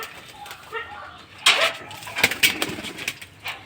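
Pigeons coo and call inside a loft as they are let out, soft repeated coos with a few sharper bursts and faint background noise.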